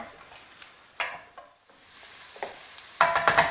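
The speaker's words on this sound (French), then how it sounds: "En continuant à revenir tout le temps pour garantir une coloration à mes oignons et à mon ail." Onions and garlic browning in a pan over medium heat, a faint sizzle broken by intermittent scraping stirs that grow louder and busier toward the end.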